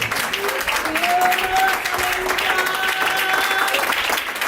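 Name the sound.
church congregation applause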